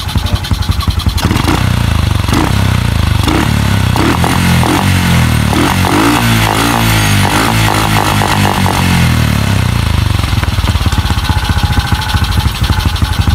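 A 110–125 cc motorcycle with a freshly cleaned carburetor is revved loudly up close, rising and falling in sharp throttle blips over a throbbing idle.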